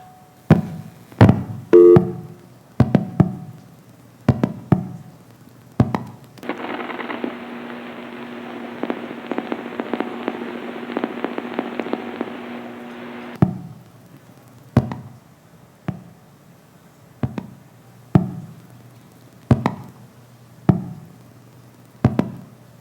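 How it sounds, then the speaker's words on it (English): Telephone exchange switching equipment clatters during a call: a string of sharp knocks and bangs, then a steady grinding hum with a tone for several seconds, then more spaced clunks, fairly loud and with no talking. "I paused to let it hear the grinding and banging from the office"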